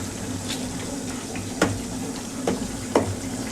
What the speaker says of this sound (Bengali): এবার আমি নেড়ে নামিয়ে নেবো।